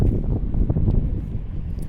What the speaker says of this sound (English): It's windy and kind of cool.